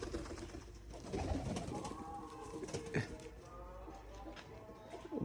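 Pigeons cooing at a loft during a flight of about seven or eight birds, one with a pink-dyed tail, with soft repeated coos, scattered wing flutters and outdoor background noise throughout, faint voices nearby.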